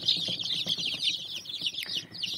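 Young chicks raised from an incubator, kept warm under two heat lamps on a cloth-lined floor, cheeping in a dense, continuous chorus of high, rapid peeps close by, with no talk.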